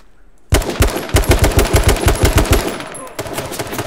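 AK rifle firing full-auto in the H1Z1 video game, a loud, close, rapid burst of about fifteen evenly spaced shots lasting nearly three seconds.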